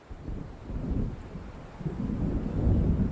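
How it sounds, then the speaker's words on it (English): Thunder from an approaching storm rumbles through a lakeside night in Alan Wake, a low rolling roar that swells toward the end, mixed with wind and rain noise. "It seems there's a storm coming."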